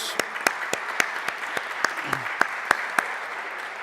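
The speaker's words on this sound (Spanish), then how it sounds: "Un aplauso para ella" Audience applause for the New Zealand ambassador at a cultural heritage seminar, with sparse individual claps spaced evenly and fairly sharp, standing out above a low room hum.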